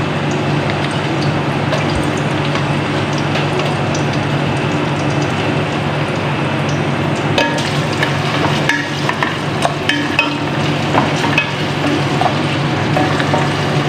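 Garlic and onion frying in a pan for a Filipino sopas soup, a loud, dense, continuous sizzle heard up close with scattered pops and clinks of utensils, no talking.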